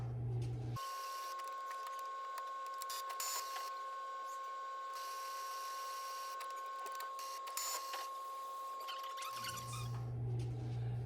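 An Epson F170 dye sublimation printer running its ink initialization gives a steady, continuous mechanical hum with a sustained tonal whine. A lower rumble sits at the start and the end.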